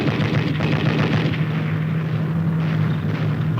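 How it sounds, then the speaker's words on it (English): Dense, continuous battlefield din of heavy automatic gunfire and explosions fills archival 1950s U.S. Army film sound, a loud, unbroken rumble with no voices. "heavy automatic fire forces the rifleman to take cover"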